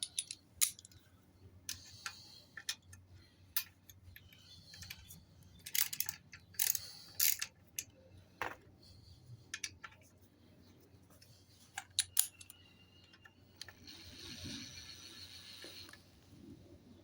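Allen bolts being tightened on a Roadstar 1600 motorcycle transfer case, with quiet irregular ratchet clicks and metallic ticks from the tool, some scraping, and a brief whirring burst near the end.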